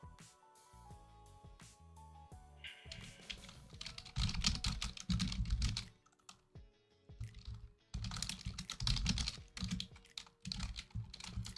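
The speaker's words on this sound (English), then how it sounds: "My typing is terrible." Rapid keyboard typing clatters in quick bursts of keystrokes, with short pauses between runs, close and clear.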